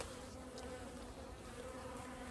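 Honey bees hum around an open top bar hive, a faint continuous close buzzing drone with no talking.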